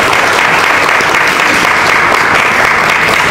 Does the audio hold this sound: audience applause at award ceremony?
yes